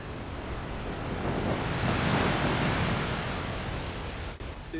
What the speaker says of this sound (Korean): 4층 건물만큼이나 높은 파도가 몰아치는 폭풍을 만났습니다